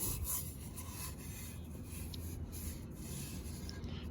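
Close, quiet rubbing and scraping as paint is rubbed off a bike fender, a continuous gritty friction with faint irregular strokes.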